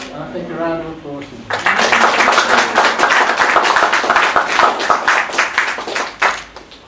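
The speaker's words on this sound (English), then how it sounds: "I think a round of applause." Wedding guests give a round of applause, a lively burst of many hands clapping close by that follows a brief spoken voice and lasts several seconds before fading out.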